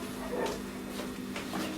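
A dog barks and whimpers in a few short yips over a steady low hum, fairly distant and not very loud.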